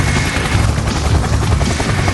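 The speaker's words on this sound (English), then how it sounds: "I guess the helicopter came early." Helicopter arriving in an animated movie, a loud, close, rumbling rotor roar with dense low thumping that fills the whole moment without pause.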